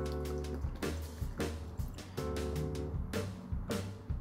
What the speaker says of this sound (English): Pouring pretty nice. I kind of poured it rough in the beginning